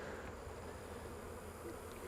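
Honey bees at a beehive during August feeding, a continuous low buzzing drone that stays steady and moderately near throughout.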